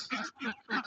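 Ducks on a duck farm give three loud, close bursts of harsh quacking in quick succession, with brief gaps between the calls.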